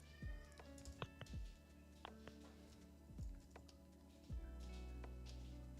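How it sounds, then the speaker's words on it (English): A pet cat meows several times in short, close, fairly loud bursts at a steady irregular rhythm, over a constant low household hum with no talking. "I think because I'm talking, my cat's like freaking out."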